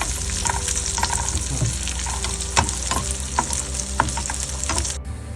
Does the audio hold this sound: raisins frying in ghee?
yes